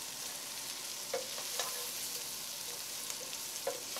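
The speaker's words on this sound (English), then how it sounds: "Blend the spices in with the Romanesco cauliflower" Powdered spices fry with Romanesco cauliflower in a pot, a faint, steady hiss of sizzling with a few soft stirring taps scattered through.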